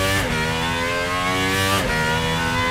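Gordon Murray GMA T.50s with its V12 engine, loud and close, pulling hard through the gears: a high sustained wail that drops sharply at two quick upshifts, then climbs again.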